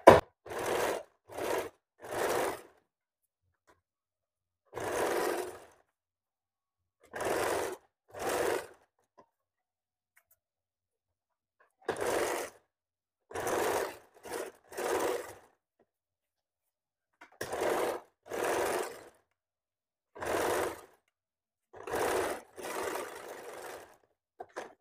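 A sewing machine stitches fabric in repeated short bursts, each lasting about a second, separated by pauses of silence. The run is close and steady.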